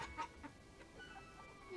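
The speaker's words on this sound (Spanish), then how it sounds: "Gallinas." Domestic hens cluck softly in a Maya household yard, giving a few faint, scattered clucks over a low, hissy background with no speech.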